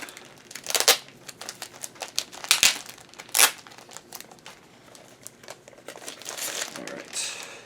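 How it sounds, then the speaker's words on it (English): Comic book mail package torn and unwrapped, with loud crinkling of plastic and paper in several sharp bursts alongside softer rustling throughout, close up with no talk. "So let me go ahead and open this bad boy up."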